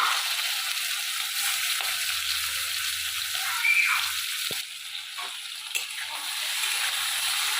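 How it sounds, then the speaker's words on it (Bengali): Prawns sizzle in hot mustard oil in a wok, a steady bright hiss running throughout with a few brief scrape and clatter accents as they settle in the pan, no talking. "চিংড়ি মাছগুলো আগে আমি ভেজে নেব চিংড়ি মাছগুলো আমি দিয়ে দিলাম"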